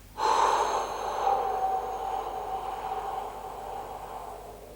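During a gentle yoga session, a person breathes in and out through the nose: one close, forceful nasal inhale or exhale with an airy rush that slowly fades out over a few seconds, with no talking.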